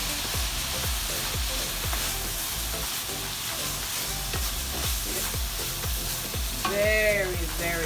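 Burdock root stir-fries in a hot pan with Bragg's liquid aminos, a steady loud sizzle broken by repeated rhythmic scrapes of stirring, with a brief squeaky scrape near the end.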